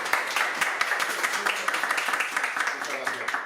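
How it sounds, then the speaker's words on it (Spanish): An audience at an award ceremony for a festival poster in Losar de la Vera gives hearty applause, dense continuous clapping from many hands, fairly close, with voices mixed in. "Entonces, un fuerte aplauso."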